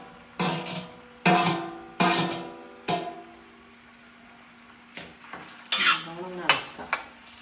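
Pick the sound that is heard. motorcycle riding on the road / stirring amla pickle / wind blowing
stirring amla pickle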